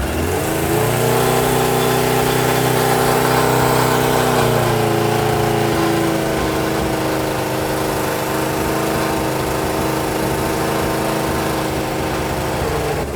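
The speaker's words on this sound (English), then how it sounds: "So that's the first start of this bike in 31 years." A 1983 Suzuki Katana motorcycle, run for the first time in 31 years, idles steadily close by with a slight exhaust leak, its engine note shifting a little in pitch early on, then running evenly and loudly alone.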